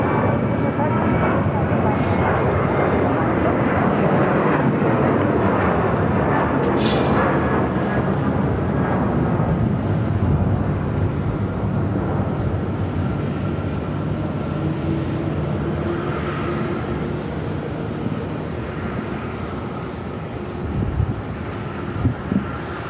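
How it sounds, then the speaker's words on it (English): A WestJet Boeing 737-800 takes off from Phoenix airport with a loud, sustained roaring jet rumble that slowly fades as it climbs away, with a voice speaking briefly over it. "That was WestJet Flight 1463 heading to Edmonton, Canada, 737-800."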